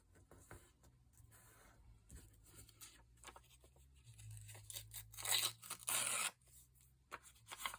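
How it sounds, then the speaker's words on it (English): Paper scraps ripped by hand for a tiny handmade book, a few short tearing rasps with one louder longer rip near the middle, close up amid quiet pauses and light handling. "So what I'm going to do though is just rip it a bit better."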